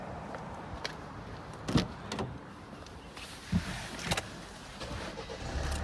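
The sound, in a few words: car being switched on, startup procedure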